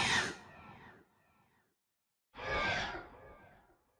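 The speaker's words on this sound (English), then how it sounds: "In the developer build of Michael Myers, the stalking sound used to sound like this." Michael Myers stalking sound effect from a developer build of the video game, two breathy, hissing bursts like heavy exhalations, the first fading slowly, then a gap of silence before a second loud swell that tapers off.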